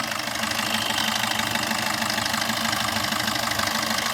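A 2016 Maruti Swift Dzire VDI diesel engine idles close by with a steady, even clatter and a faint knocking rhythm that holds throughout, with no talking.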